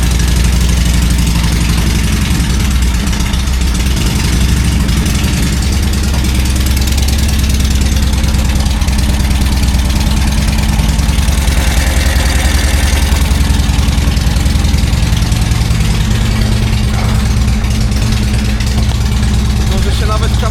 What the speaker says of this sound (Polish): warto by odpalić WL-e